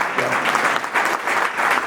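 Church audience applauding steadily, a close, continuous crackle of many hands throughout the short moment.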